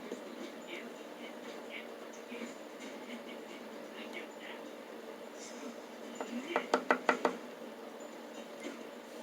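Back of a makeup brush mincing an eyeshadow palette in a lash container lid: a quick run of five or six close, sharp taps near the end, over faint scratching and light rustle.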